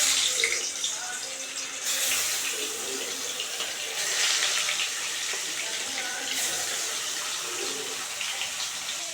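Boal fish pieces coated in salt and turmeric are frying in hot oil, giving a loud, continuous sizzling hiss that swells in bursts near the start and middle.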